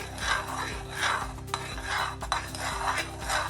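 Homemade sugar wax being stirred in a pan, a repeated scraping and rubbing of a utensil against metal in a steady back-and-forth rhythm, moderately quiet and close.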